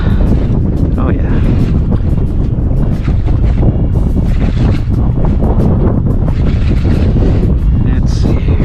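Strong wind roars and buffets the microphone on a foggy, windy day of shore fishing at South Padre Island, a loud constant rush with gusty swells that runs through the whole stretch.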